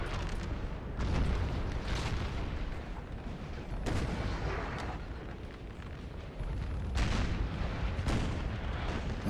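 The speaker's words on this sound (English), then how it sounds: "Oh, strong artillery strike there. It's a 4-pounder." Four-pounder cannon fire in the video game Napoleon Total War, heavy booming artillery blasts rolling over a continuous battle din, several thunderous strikes in close succession with no talk.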